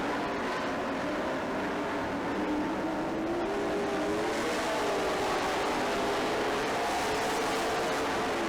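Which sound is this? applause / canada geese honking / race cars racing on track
race cars racing on track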